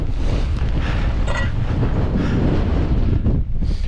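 Strong wind buffets the microphone on a Scottish Highlands mountainside at about 850 to 900 meters in winter, a loud, continuous roaring rumble with gusty surges and no speech.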